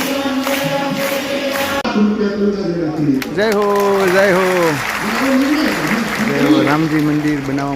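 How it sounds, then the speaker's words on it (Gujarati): Applause rings through a packed Ram Katha dome during a Gopnath katha, a loud crowd clapping that mixes under a voice speaking over a loudspeaker. "આખો ડોમ તાળીઓના ગડગડાટ ગુંજી રહ્યો છે"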